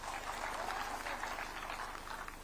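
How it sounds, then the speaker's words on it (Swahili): A crowd at a political rally applauds in a faint, distant, continuous wash of clapping that holds steady throughout. "Wapigie makofi hao watu."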